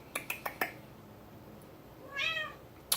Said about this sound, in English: Got the old kitty cat next to me.